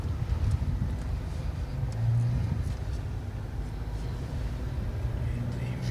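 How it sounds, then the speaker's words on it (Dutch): Slow-moving road traffic rumbles steadily past a bus stop on a busy four-lane road where pedestrians cross, with a continuous low engine drone and occasional passing swells throughout. "er volgt overal langzaam rijdend verkeer in en uit"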